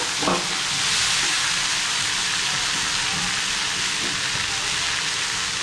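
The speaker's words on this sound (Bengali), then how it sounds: "পেঁয়াজগুলো হয়ে হয়ে গিয়েছে এবার আমি মুসুরগুলো দিয়ে" Red lentils tipped onto browned onions in a hot pan sizzle with a steady, close, crackling hiss, with a few soft stirring knocks underneath.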